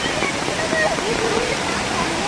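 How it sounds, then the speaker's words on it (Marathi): Muddy red monsoon floodwater rushes through a channel in Konkan, a steady, loud, broadband roar that never lets up, with a voice talking over it. "भयंकर आणि जबरदस्त पाणी आहे"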